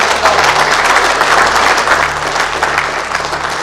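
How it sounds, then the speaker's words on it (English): Steady audience applause at an employee wellness talk, a dense, even wash of clapping from a seated crowd, fairly loud and continuous for a few seconds with no talking over it. "let's give a round of applause"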